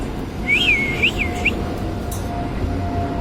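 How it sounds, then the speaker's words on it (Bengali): A small whistle played to birds, a short series of high swooping warbled notes near the start, then a quieter background with faint ambient hum. "দেখেন, আমি বাঁশি বাজাচ্ছি, ওবার কান দিয়ে শুনতেছে।"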